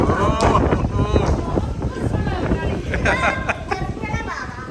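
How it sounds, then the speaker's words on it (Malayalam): Strong wind buffeting the microphone in a steady, loud roar beside a resort swimming pool in Wayanad, with a person speaking over it. "നല്ല കാറ്റാണല്ലോ അല്ലേ നല്ല അടിപൊളി കാറ്റ്"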